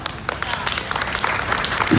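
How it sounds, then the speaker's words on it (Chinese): Applause from an event audience for a Filipino street artist at a Flores de Mayo celebration in Taiwan, a brief burst of clapping mixed with crowd noise. "掌声， 很开心。"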